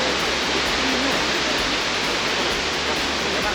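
A swimming-spot waterfall pours in a continuous loud, dense roar that stays even and unbroken for the whole stretch, with no clear talk over it.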